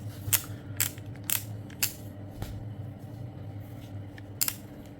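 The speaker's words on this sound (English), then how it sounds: "Comes with a clicking lever, a 5 clicking lever." A SUPRENT MECHA HC625 hair clipper's five-position adjustment lever being clicked, giving sharp, close mechanical clicks in an irregular series of about six over a low steady hum.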